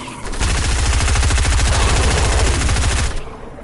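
Rapid automatic gunfire from the Fortnite video game, a loud, steady burst of evenly spaced shots lasting about three seconds, then a sudden stop.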